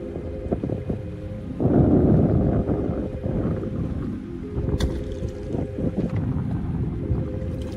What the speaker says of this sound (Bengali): মেশিন আমাদের স্টার্ট উঠে গেছে আর চলো